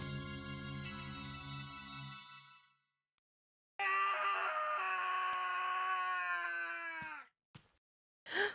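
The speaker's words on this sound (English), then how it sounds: "What's that scream?" A drawn-out, high-pitched scream in the survival horror game Clock Tower 2, wavering for several seconds after an earlier low tonal sound and a pause, followed by two short sharp cries.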